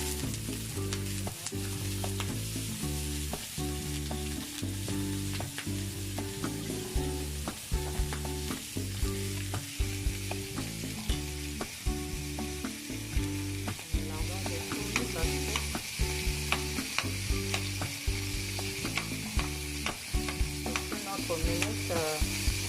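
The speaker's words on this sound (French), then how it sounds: "je commence à frire maintenant mes lardons" Lardons frying in a pan for a potato omelette, a continuous crackling sizzle up close with repeated spatula taps and stirring scrapes, steady and loud with no voices, under a low steady tonal hum.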